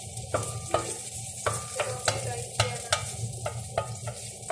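Garlic frying in a pan while being stirred until golden brown, with a steady sizzle beneath a regular series of sharp spatula scrapes and knocks against the pan, close and clear.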